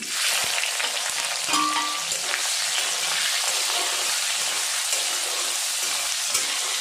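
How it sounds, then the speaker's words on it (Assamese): Onions fry in oil for an Assamese duck curry, making a dense, even, loud sizzle that holds steady throughout with only faint stirring movement. "পিঁয়াজখিনি মই ৰঙচুৱা হোৱালৈকে ভাজি ল'ম।"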